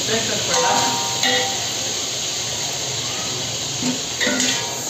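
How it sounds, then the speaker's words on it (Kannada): Onion and green chilli frying in hot oil for Andhra-style chilli chicken: a steady, close hiss and sizzle that runs the whole time, with a few brief louder spurts. "ಈರುಳ್ಳಿ ಎಣ್ಣೆಯಲ್ಲಿ ಚೆನ್ನಾಗಿ ಹುರ್ಕೋಬೇಕು."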